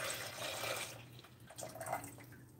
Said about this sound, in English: we're gonna add the rest of that quart of milk